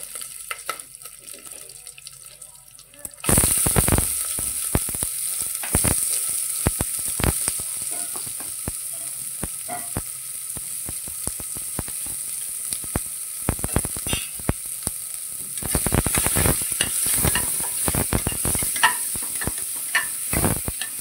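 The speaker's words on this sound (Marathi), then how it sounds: "भाज्या छान आपल्याला फ्राय करून घ्यायचं" Vegetables and whole spices like cinnamon and pepper frying in a pan for pulao give a steady hiss, with scraping and stirring clatter from a utensil throughout, close and fairly loud.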